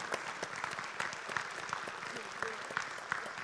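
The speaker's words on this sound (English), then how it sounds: "give Ms. Thorne and our presenters a round of applause" Audience members at a healthcare marketing gathering applaud their presenters, a dense, sustained clapping with sharper individual claps standing out and a faint hum of voices underneath.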